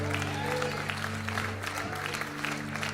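A church congregation claps together in a steady crowd patter, mixed with a low electrical hum and some voices.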